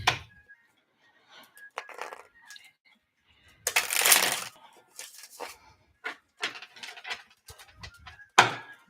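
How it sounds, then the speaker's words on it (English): Tarot cards are shuffled close by: soft scattered taps and slides, then a louder riffling burst and further irregular card flicks and handling noises in a quiet room, with no voices. "I'm just shuffling these cards"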